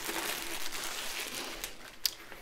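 A plastic dust-cover bag with printed branding crinkles and rustles steadily during an unboxing of a diamond art kit. The sound is close and soft, with one sharp crackle near the end.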